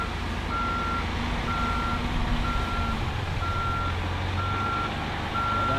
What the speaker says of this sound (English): bring the big truck